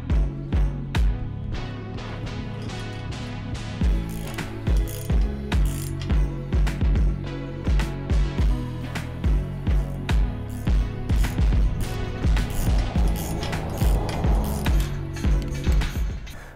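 A ratchet tightens the chain of a DIY motorized sliding gate, making a steady run of loud, close, evenly spaced clicks that keeps going without a break and with no talking.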